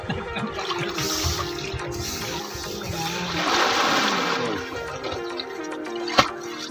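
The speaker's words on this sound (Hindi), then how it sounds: "अभी फिलहाल स्नान करने जा रहा हूं" Water rushes and splashes continuously as a person bathes in the Narmada river, a loud, close churning wash with no speech and one sharp knock near the end.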